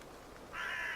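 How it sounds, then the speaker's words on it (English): A single harsh crow caw rings out midway through a quiet outdoor scene in the point-and-click horror game The Last Door, fairly faint and unaccompanied by speech. "it looks like the crows are still outside"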